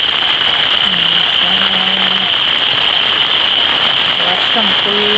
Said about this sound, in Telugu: వర్షం ఫుల్ వర్షం